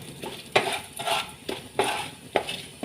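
A spoon scrapes and stirs through a pan of bay leaf and whole cumin seeds, sounding as a regular series of close, sharp scraping strokes about every half second over a faint sizzle.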